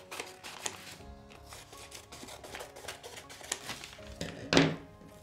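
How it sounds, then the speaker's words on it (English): Scissors snip through paper prints in an art session using kitchen materials, with soft irregular cuts, rustling and handling noises close by, one louder crunch near the end. "I'm going to cut some couple of lines."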